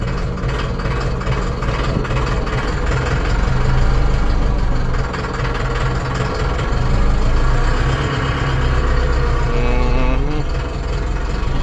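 ENEY KB-504 tractor engine running in low gear, a loud, steady diesel rumble throughout with slight swells in throttle, close and uninterrupted.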